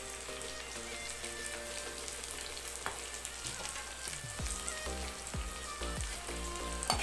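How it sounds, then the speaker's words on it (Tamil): Onions sautéing in a frying pan, a continuous crackling sizzle with occasional sharper pops and faint stirring knocks toward the end, close and fairly quiet, with no talking. "நல்லா பொன்னிறமாக ஆகிறது வதக்கி விடுங்க."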